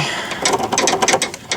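A ratchet wrench tightens the sway bar end link bolt on a Chevy Cavalier / Pontiac Sunfire with quick, even clicking strokes, close and clear, with no talk.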